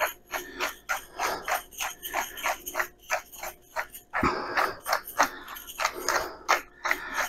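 A hand pepper mill grinds a four-peppercorn mix in quick, rhythmic ratcheting bursts, close and fairly loud, with a short pause midway before the grinding resumes.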